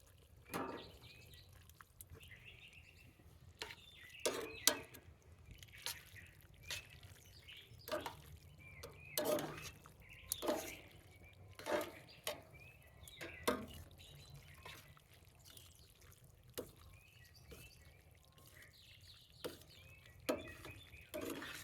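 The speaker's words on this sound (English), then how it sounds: "I'm going to blend and mix all that in so that the sauce coats all the noodles." Pasta noodles being tossed and mixed with tomato basil sauce in a pan: quiet, scattered wet squelches and soft clicks at an irregular pace, close by, with no talking.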